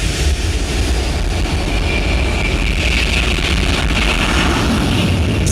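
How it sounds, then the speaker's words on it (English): A loud, steady roar of a jet engine fills the whole stretch, a dense, rumbling wall of sound with no pauses or voices. "to the thunder of a jet engine."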